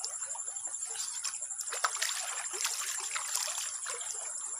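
Hands scooping and splashing clear river water onto a face at a natural stream in Samarinda, soft trickles and small splashes repeating unevenly over a steady high insect-like whine, close and fairly quiet, no talking.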